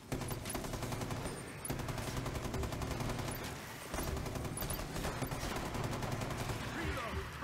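Rapid automatic gunfire from a squad shooter, Rainbow Six Extraction, with sustained bursts rattling almost continuously through the clip over a dense game soundscape, pausing only briefly.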